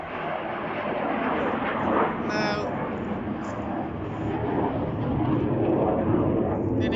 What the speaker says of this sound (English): Just a single fighter jet.